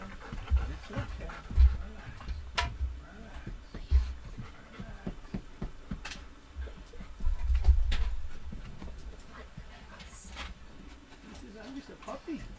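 A big puppy pants in quick, rhythmic breaths close by, broken by thumps and shuffling movement, while a person speaks softly over it.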